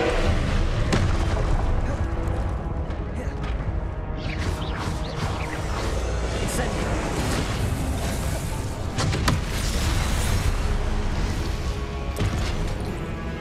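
Confringo spell blasts in the video game Hogwarts Legacy, a dense run of loud booming explosions and crashes over constant rumbling combat noise, with no clear gaps.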